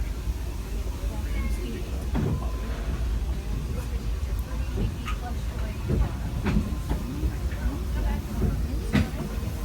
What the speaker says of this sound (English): To those just joining us, welcome aboard the Disneyland Railroad.